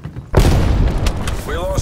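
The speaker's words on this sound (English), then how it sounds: "Throwing frag grenade." A frag grenade detonates in a Call of Duty Black Ops Cold War multiplayer match, a sudden loud boom after a short quiet moment, followed by a sustained rumbling wash of game noise and a brief rising-falling electronic tone near the end.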